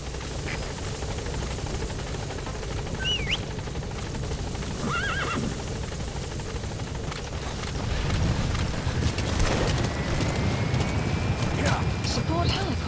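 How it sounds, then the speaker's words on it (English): A support helicopter arrives in Metal Gear Solid 5: The Phantom Pain, its rotor drone building steadily alongside horse whinnies and hoof clip-clop, with voices talking over it. "Support helicopter has arrived."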